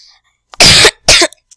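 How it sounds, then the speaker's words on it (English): Two sharp, loud coughs from one person close to the microphone, a brief pause between them, followed by faint breaths. "sorry, I had a cough."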